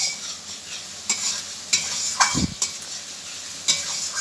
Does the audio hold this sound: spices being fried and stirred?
yes